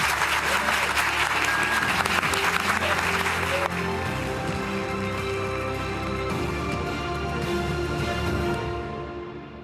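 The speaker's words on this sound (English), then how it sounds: "Let's give them a round of applause." Sustained audience applause closes a congressional district debate, loud dense clapping at first that thins and gives way to studio music and broadcast sound before fading out.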